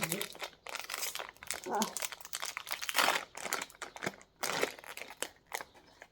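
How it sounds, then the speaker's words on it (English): A crinkly plastic package of cherries is handled and opened, producing repeated bursts of close, sharp crackling and rustling, with people talking over it. "I'm going to open up the cherries."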